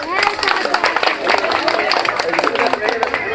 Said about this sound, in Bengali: সবাই হাততালি দেন